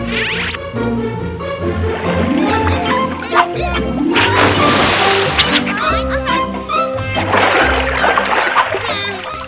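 A golden waterfall in a cartoon splashes and sloshes loudly and continuously, with music and other effects mixed in.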